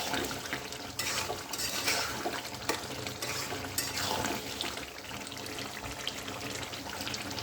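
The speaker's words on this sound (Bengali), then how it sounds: "আমি হাঁসের মাংসটা এখন কষে নিব।" Duck meat being stir-fried in a pan, a continuous close sizzle broken by repeated scraping and clinking of the spatula against the pot.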